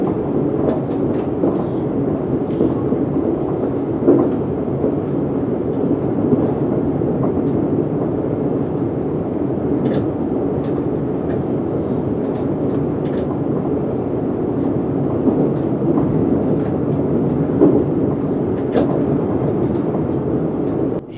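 A Class 390 Pendolino tilting electric train runs on the down-fast line of the West Coast Main Line, giving a steady, loud, continuous rumble and rush that holds for about twenty seconds with no talk.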